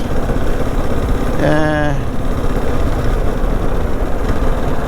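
A motorcycle engine runs steadily and loudly while the rider shifts gear without a clutch cable on a ride into Port Nolloth, with a brief rising whine from the gear change near the middle.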